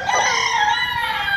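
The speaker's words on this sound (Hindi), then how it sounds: "और उस पे VIP आवाज इस मुर्गे की" A rooster crows in one long, clear, close call through light rain, loud and alone with no talking over it.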